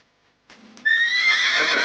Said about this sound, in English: That's right. It's a horse.